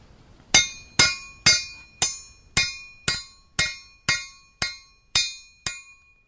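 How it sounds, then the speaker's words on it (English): A heavy hammer strikes a steel rail spike being forged into a knife eleven times in a steady rhythm, each blow a sharp ringing clang that decays quickly; close and loud, no talking. "We've decided we'll stick with the old hammer."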